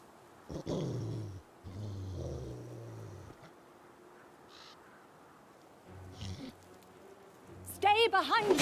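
Low, rumbling growls from a dog in the Pathfinder: Kingmaker video game, coming in repeated bursts amid other monster snarls, with a shrill cry at the end.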